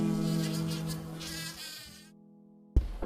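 A bee buzzes loudly during buzz pollination of crop flowers, a close, steady droning hum that cuts out abruptly before a short sharp burst at the end.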